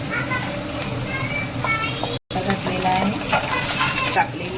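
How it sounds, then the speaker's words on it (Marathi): Garlic, cumin and ginger paste spits and sizzles steadily in hot oil in a kadhai, a dense close crackle that runs throughout with a brief cut midway, while voices talk in the background. "आता लसण जिरा अद्रकचा पेस्ट एक चम्मच घातलेला आहे त्याला मस्त तेलामध्ये उद्यायचं"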